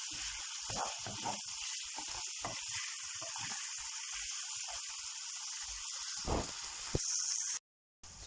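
Liver and green pepper sizzle while being sautéed in a pan, a steady crackling hiss with small pops and stirring sounds, cutting out briefly near the end.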